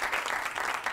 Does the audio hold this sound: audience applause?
yes